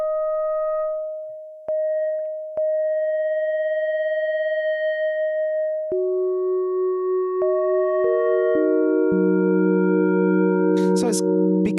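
A Yamaha Reface DX FM synthesizer plays sustained tones with subtle detune for a warm character, starting as a single steady pitch and thickening into layered chords with brief clicks between note changes, clear and alone.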